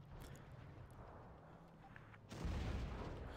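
In a World of Tanks battle, the FV201 (A45)'s derp gun fires a high-explosive shell: a sudden heavy boom hits about two-thirds of the way in. A rolling, loud rumble follows, after a quieter stretch of engine and battlefield ambience.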